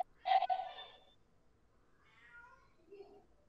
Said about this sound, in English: He's still fucking meowing.